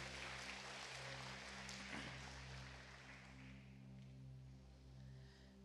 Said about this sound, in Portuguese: Dá um aplauso para o Senhor.